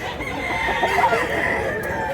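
An 11-month-old gamecock at a rooster market in Mantalungon, Cebu, crows nearby, one harsh wavering call rising through steady background chatter and noise.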